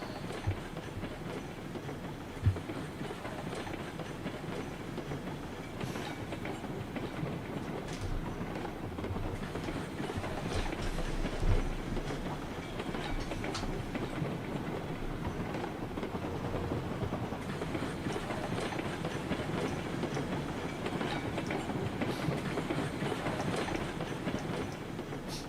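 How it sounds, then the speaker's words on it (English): Video game train rumbles and clatters steadily on its track at a fairly low, even level throughout, with no clear brake squeal standing out. "I'm gonna keep hitting the brakes and immediately stopping the train just to slow it down like 10 miles an hour."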